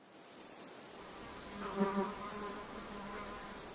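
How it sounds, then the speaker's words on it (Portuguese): Giant red flies in the hot Aragón desert of Spain, heard as faint, brief buzzing bursts over a steady insect drone, with a few clustered wingbeat pulses rising and fading. "Essas moscas vermelhas gigantes adoram o calor e se reproduzem sob o sol de verão."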